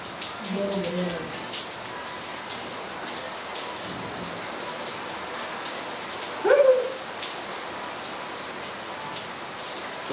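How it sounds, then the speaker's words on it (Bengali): Steady rain falls outside a room during an indoor interview, a constant hiss heard throughout at moderate level, with a voice speaking briefly early on and a short clatter partway through. "হয়তো আপনারা বৃষ্টির শব্দটা পাচ্ছেনি বাইরে"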